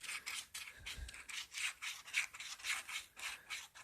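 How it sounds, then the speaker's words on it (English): Medium grade sandpaper rubbed lightly back and forth over the idler wheel of a 1966 Rheem/Califone 1450 turntable, giving a steady series of soft, close rasping strokes in an even rhythm, with no talking. "I'm using some medium grade sandpaper, and I'm just going to run this ever so lightly over it a few times"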